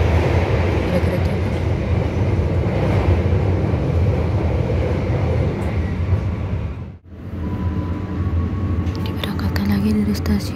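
A train passing at Haurgeulis station, heard from aboard another train as a continuous heavy rumble with a brief dip midway, followed by faint squeals and clatter.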